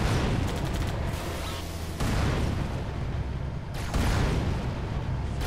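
Dense Halo 2 gunfire and explosions pound continuously, loud and close, with sharp rapid bursts layered over booming blasts that surge every couple of seconds.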